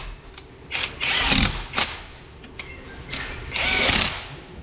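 A power tool tightens the last wheel nut on a Malibu fitted with temporary wheels, two loud whirring bursts with shorter clicks and rattles in between.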